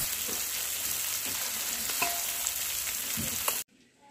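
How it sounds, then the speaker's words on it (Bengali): Moka fish fries in a pan with a constant crackling sizzle and occasional spattering pops close by, cutting off abruptly near the end. "তো মাছটা এদিকে ভাজা হচ্ছে"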